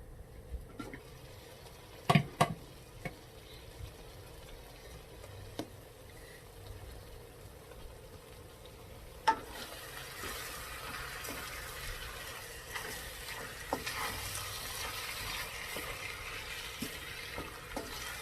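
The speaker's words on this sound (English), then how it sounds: "Chicken is cooking." Chicken pieces fry in a pan for curry, a low steady sizzle with scattered sharp clicks and scrapes of stirring, the sizzle swelling louder in the second half.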